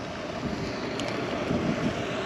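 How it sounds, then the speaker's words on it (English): Steady wind rushes and buffets across the microphone outdoors beside a pond, a continuous broadband roar with gusts swelling and easing over the whole stretch, with no voices. "Boy, that wind, man."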